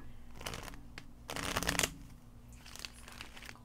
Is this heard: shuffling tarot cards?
yes